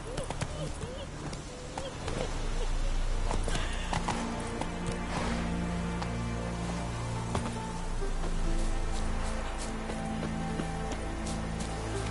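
Roach the horse's hooves clip-clopping steadily through rain in The Witcher 3, a continuous rhythmic trot over a wash of falling rain and low background tones.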